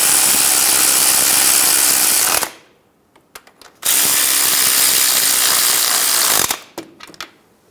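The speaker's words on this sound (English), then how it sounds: "Snug the nuts down." A power ratchet snugs down the bracket nuts on a 2000-2007 Ford Focus front axle during CV boot work, with two loud sustained whirring bursts, each a couple of seconds long, followed by brief clicks and clanks.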